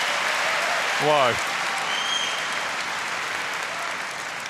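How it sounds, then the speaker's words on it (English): Audience applause after a long table tennis rally in a women's singles final at WTT Frankfurt 2023, a steady broadband clapping wash running throughout, with a commentator's brief exclamation briefly rising over it. "you've got to applaud indeed both of them for that rally"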